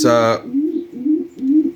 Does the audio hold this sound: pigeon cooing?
yes